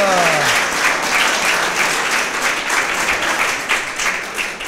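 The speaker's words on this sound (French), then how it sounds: "Alors, on applaudit." A crowd applauds after a pitch presentation at a jury event, loud sustained clapping right after a fading voice, with the end of speech audible at the start.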